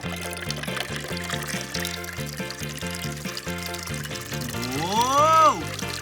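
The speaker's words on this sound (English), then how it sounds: "Okay, the next thing, let's add our water." Water pours steadily into a container for homemade lemonade, a continuous liquid rush whose gurgle rises in pitch as it fills, heard beneath cheerful background music.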